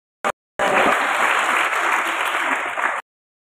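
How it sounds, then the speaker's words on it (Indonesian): An audience at a ROHIS Islamic student training event in 2025 breaks into steady, full applause after a brief sharp sound, sustained for about two and a half seconds before cutting off abruptly. "Boleh tepuk tangan dong."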